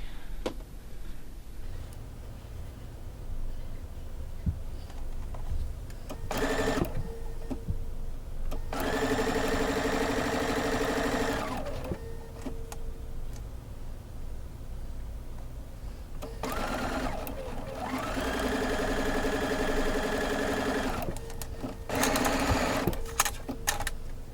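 Domestic sewing machine stitching quilt block pieces together for a quadrant of an Alaska block-of-the-month quilt, running in several bursts of steady whirring with pauses between, close and fairly loud.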